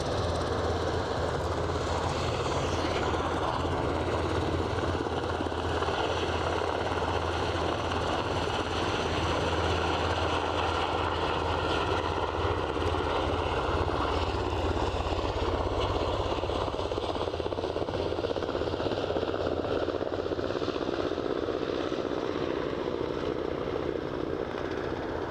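Embraer aircraft at Aberdeen airport, a steady distant engine roar with broadband rumble and faint whine, continuous and even throughout with no talk.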